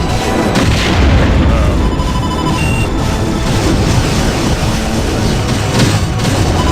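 Heavy, booming ballistic cannon blasts from a spaceship in a space combat video game repeat in a dense, continuous barrage, loud and close, with no talking.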